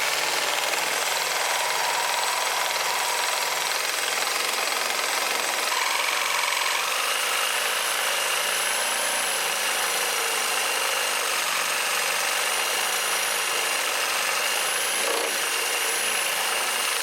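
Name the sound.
power tool cutting off shifter linkage bracket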